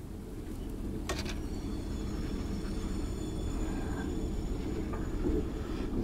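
Continuous low rumble of a train running in the video game Choo-Choo Charles, a steady droning roll with a few faint higher whines and a brief clank early on.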